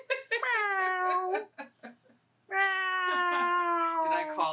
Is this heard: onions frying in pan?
no